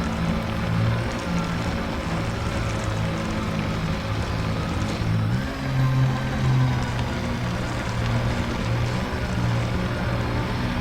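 Ground vehicle driving across rocky terrain in Elite Dangerous, a continuous low motor hum with layered rumble that shifts pitch once midway, steady and close, with no talk.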